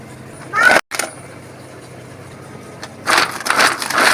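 Hand chopper chopping carrot pieces into fine bits, giving short bursts of crunching and clattering at the start and again toward the end, with a quiet gap between.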